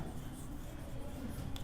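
Marker or chalk writing on a board while a chart is drawn up, a soft steady scratching and rubbing that runs continuously and faintly, with no speech over it.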